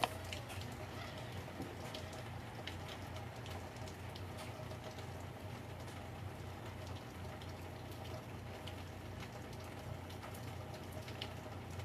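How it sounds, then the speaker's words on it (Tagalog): Heavy rain pouring down steadily in a backyard, a dense, even hiss of drops on surfaces with a low rumble beneath, constant and unbroken throughout. "Grabing ulan Ate Ami."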